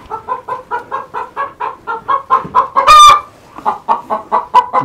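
A hen clucks in a steady, agitated rhythm of repeated close, loud clucks, upset before laying an egg, broken once by a sharp squawk before the clucking resumes.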